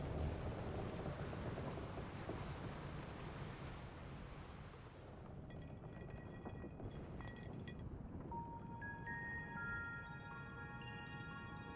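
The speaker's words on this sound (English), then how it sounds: "We're in for a proper storm, it seems." Video game thunderstorm at sea in Final Fantasy XIV: heavy wind and surging waves roar continuously, with low rumbling like distant thunder, and faint tonal chimes emerging later over the storm noise.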